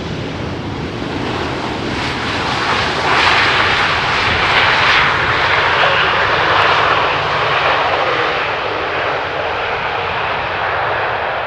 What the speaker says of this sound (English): we will see the second A300 of the day from DHL